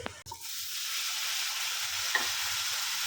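Soft, steady sizzling of strawberries in ghee in a pan after a quick clatter, gentle stirring scrapes now and then, no voices.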